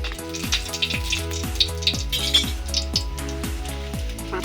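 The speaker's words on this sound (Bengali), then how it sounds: "কড়াইতে তেল দিয়ে দিয়েছি দিয়ে দিচ্ছি শুকনো মরিচ" Dried chilies sizzle in hot oil in a wok, a bright, crackling fry heard close, alongside a steady rhythmic thumping and clinking of utensils under a droning background hum.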